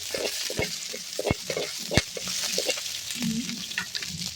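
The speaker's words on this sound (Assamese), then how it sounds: "তেলখিনি গৰম হৈছে, এতিয়া মই পিঁয়াজখিনি দি ল'লোঁ।" Onions dropped into hot oil for a potato and fish dish, giving a steady crackling sizzle with stirring clatter and a few sharp utensil knocks, close by and with no talking.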